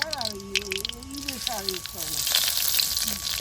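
Dry chillies and spices fry in mustard oil with a steady sizzle that swells toward the end, heard beneath a person talking.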